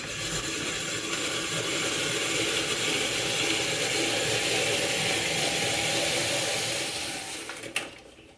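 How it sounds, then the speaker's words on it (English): A hand-cranked apple peeler, corer and slicer grinds and whirs continuously through an apple, a dense steady mechanical rasp that fades near the end before a short clunk. "this thing here is what peels it, and then this will core it once it goes through here"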